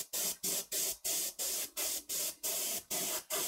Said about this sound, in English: I'm going to be using the Badger Anthem airbrush for this with the color cup.